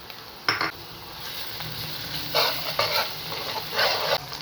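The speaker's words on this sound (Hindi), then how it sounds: "प्याज फ्राई हो रहा है, इसमें अदरक लहसुन के 2 चम्मच डालती हूँ" Onion frying with spoonfuls of ginger and garlic in a pan, cooked for dhaba-style moong and masoor dal: a steady sizzle runs throughout, broken by several louder bursts of stirring and scraping against the pan.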